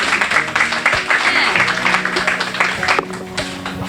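Audience applause at a prize ceremony for a sea-turtle event in Joal-Fadiouth, Senegal: steady clapping from a crowd under amplified speech and background music, with a sharp burst near the end.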